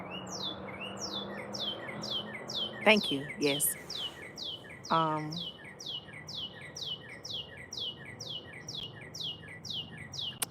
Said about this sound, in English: Y'all hear the birds singing in the background?